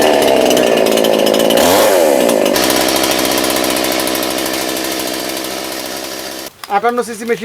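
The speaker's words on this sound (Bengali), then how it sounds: "এই দেখুন এক কিকে স্টার্ট হ্যাঁ" A petrol chainsaw starts on one pull and roars close by at a loud, steady, buzzing drone, then drops to a lighter idle as a voice speaks near the end.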